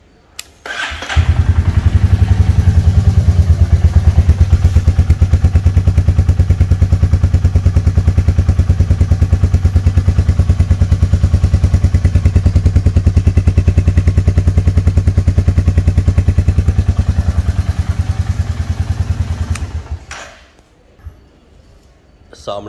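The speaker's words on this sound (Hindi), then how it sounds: "एक बार इंजन बीट सुनाते हैं आपको।" A Royal Enfield Meteor 350 motorcycle starts and idles with a loud, close, steady thumping single-cylinder beat for nearly twenty seconds before cutting off.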